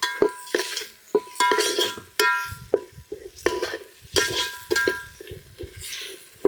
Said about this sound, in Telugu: కొంచెం పుదీనా కొంచెం కొత్తిమీర తిప్పుకొని ఒక్క నిమిషం వేగే వరకు వేగరించుకుందాం